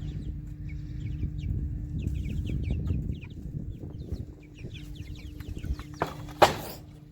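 Young chickens, about nine weeks old, cluck and chirp softly in a pen, making repeated short calls over a steady low background hum, with one brief louder knock near the end.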